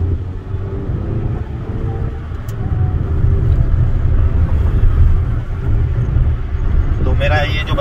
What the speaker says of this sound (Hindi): हाईवे पे गाड़ी चल रही है